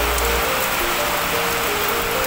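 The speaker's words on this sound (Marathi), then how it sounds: "फुल पाऊस भरला, फुल." Heavy first-of-season rain pours down in a steady, dense hiss, close and unbroken from start to finish, with no voices over it.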